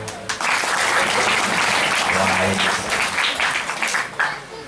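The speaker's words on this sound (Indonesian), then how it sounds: "tepuk tangan" Loud, dense clapping from a crowd at an Islamic sermon gathering, sustained for several seconds, with a voice speaking briefly over it as it starts to fade.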